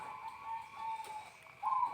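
A perkutut zebra dove of the sriwiti type, kept as a monitored cage bird, gives soft, low repeated coos, faint and close against a quiet background.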